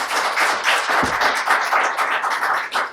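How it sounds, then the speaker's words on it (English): Applause from a modest audience at a panel session, a close, uneven patter of clapping hands with a few louder claps over about three seconds. "Applause."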